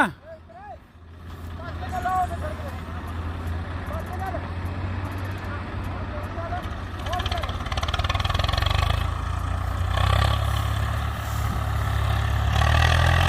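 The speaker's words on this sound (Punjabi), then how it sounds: "ਦੇਖੋ ਜੀ ਇਸ ਢਾਲ ਤੋਂ ਟਰੈਕਟਰ ਚੜਦਾ ਕਿ ਨਹੀਂ" Tractor engine, a model 855, labouring as it climbs a slope, a steady low rumble that swells louder toward the end, with background chatter and noise throughout.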